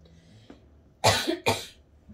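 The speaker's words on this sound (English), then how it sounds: "I think it's the feeling that I couldn't cough, therefore I had to." Two sharp, close coughs in quick succession, preceded by a faint throat sound, in an otherwise quiet room.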